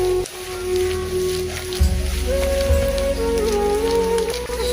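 Garlic, onion and cumin crackle and sizzle in hot oil while tempering lentil dal, a dense rain-like spitting hiss that holds steady near the pan, with low kitchen hum and tones underneath.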